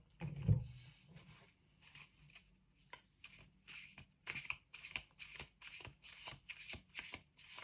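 A deck of tarot cards is shuffled up close in a quiet room: a single thump, then a run of crisp riffling bursts repeating in a steady rhythm.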